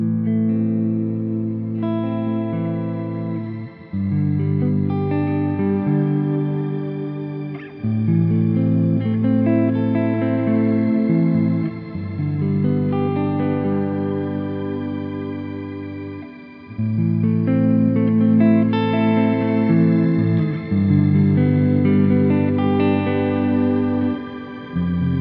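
Electric guitar through a Coffee Shop Pedals Cortado reverb pedal set to a longer decay, strummed chords ringing into lush washes, steady and fairly loud throughout.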